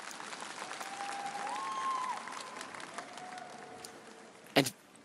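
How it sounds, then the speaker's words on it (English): Rink-side crowd applause rolls through an ice dance free dance at Cup of China 2024, steady and moderate under sustained music tones, ending with a sharp thud. "Caroline Green and Michael Parsons as their coach Tanith White applauds them from the side of the ice."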